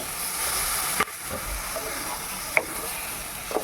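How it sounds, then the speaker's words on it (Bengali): Spice paste sautéing in a pan while cooking Bengali jackfruit ghonto (echorer ghonto): a steady, close hiss and sizzle, with a few sharp clinks of a utensil against the pan and no talking. "এখন ভালো করে মশলাটিকে কষিয়ে নিতে হবে"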